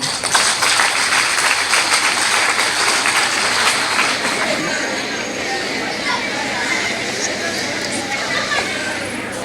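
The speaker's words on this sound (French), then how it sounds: "le président est M. Edodinam Komialagbo, que je vous prie d'applaudir très fort." Sustained applause from a sizable crowd of school pupils in Togo fills the space, steady and broad, gradually easing slightly toward the end with some voices mixed in.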